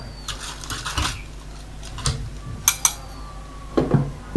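Plastic cleaner mixture being stirred in a container, with sparse clinks and scraping taps of a utensil against the vessel, fairly quiet with gaps between the knocks.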